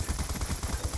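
Rapid gunfire from a video game shooter, a steady rhythm of about ten quick shots in one second, loud and close with no talk over it.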